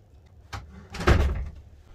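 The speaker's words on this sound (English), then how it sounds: "I've closed the door" A wooden shed door housing a wood stove swings shut, one soft knock followed by a heavier closing thud and a short fading rumble, heard alone.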